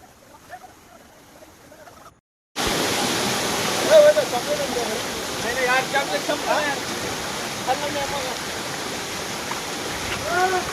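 Bhivpuri waterfall in the monsoon rain, a loud, steady roar of rushing water that cuts in abruptly after a couple of seconds of quiet and fills the rest, with faint voices mixed in.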